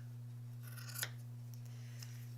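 Scissors snip through the selvage edge of fabric during an embroidery session, one crisp close cut standing out over a steady low electrical hum, followed by fainter rustling and a small later snip.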